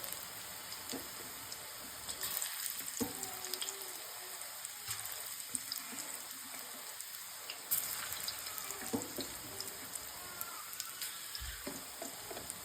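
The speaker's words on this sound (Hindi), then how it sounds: "तो यहाँ पे मैंने प्याज और टमाटर और लहसुन डाल दिया है, ये पकता है।" Onion, tomato and garlic cooking in a pan on a gas stove turned to a low flame, giving a steady, close hiss of sizzling and bubbling throughout, with no talking.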